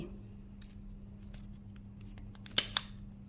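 A stapler punches through a folded pandan leaf rose at its base, producing two quick, sharp metallic clicks close together near the end, after a stretch of quiet hum.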